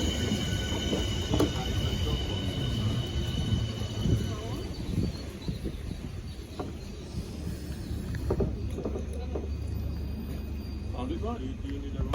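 A Southeastern Class 465 electric train pulls out of a suburban London station bound for London Victoria. It makes a continuous close rumble with wheel and rail noise and faint squeals, and there is talk over it.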